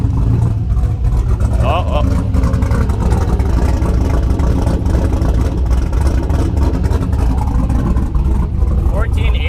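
A truck's turbocharged junkyard 5.3 LS engine rumbles loudly and revs just after its first start, a deep, close, continuous roar with brief exclamations from a person over it.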